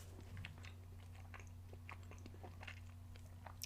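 Close, wet chewing and lip smacking on a caramel Snickers bar, with soft crunchy bites scattered through, all over a steady low hum and no talk.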